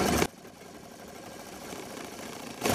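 A household sewing machine with a fault that cuts the bottom thread stitches in short, loud whirring bursts at the start and end, with a quieter steady mechanical hum between them.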